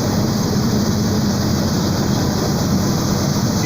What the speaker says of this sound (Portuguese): Descer só no freio motor,